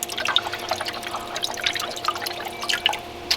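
Water poured into the water pan of a Blaze Kamado smoker splashes and drips in quick, irregular trickles and plinks, close and fairly soft.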